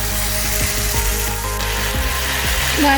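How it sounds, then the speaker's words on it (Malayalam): Chicken coated in masala sizzles in a frying pan while being stirred for a coconut-milk chicken curry, with steady frying hiss and scraping, clacking strokes of a utensil against the pan at an uneven pace. "ഈ ചിക്കനിൽ ഈ മസാലയെല്ലാം നല്ലതായിട്ട് പിടിച്ച് വരുന്നിടം വരെ ഇതൊന്ന് ഇളക്കി കൊടുക്കാം"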